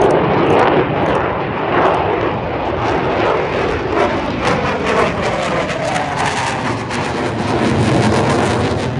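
Military jet aircraft roaring past at full power at an Australian Defence Force air show, a loud sustained broadband engine rumble and jet roar filling the whole span with no talk.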